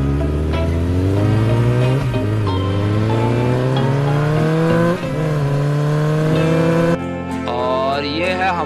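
A red toy super bike runs with a loud, close whining motor that rises and falls in pitch, steady and continuous before changing tone near the end.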